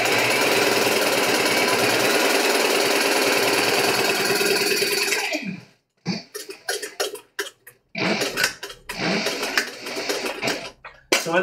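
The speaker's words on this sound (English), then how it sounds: "it's kind of hard to hear through the sewing" A cylinder arm sewing machine stitching leather runs steadily and loudly for several seconds, then stops and restarts in short rattling bursts with pauses between.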